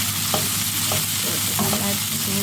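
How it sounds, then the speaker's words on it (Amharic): Spiced food frying in a pan sizzles continuously while a utensil stirs and scrapes it, with a few distinct scraping strokes over the steady hiss. "ከዛ በደንብ አድርጋችሁ ጠበስ ታደርጉታላችሁ"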